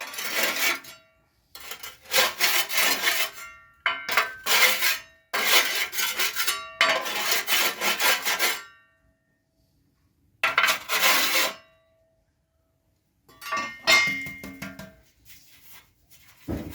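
Stuck ash and wax are scraped from inside a fireplace in a series of gritty, rasping strokes, close and fairly quiet, coming in irregular bursts separated by silent pauses.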